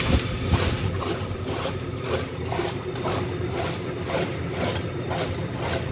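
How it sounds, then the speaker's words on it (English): A 1962 Norge Automatic Washer AW-220 churns with water splashing and sloshing against the bottom of the tub because of a weak pump belt, in a steady, pulsing rhythm, close by and continuous. "Water's hitting the bottom of that tub because that pump belt's not doing good enough for it"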